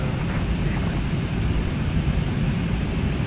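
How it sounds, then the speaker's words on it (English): A Boeing 737 jet in Microsoft Flight Simulator X rolling for takeoff, a steady loud engine roar with low rumble, continuous and unbroken throughout. "Boeing November 737 Tango, cleared for takeoff, runway 19er, right."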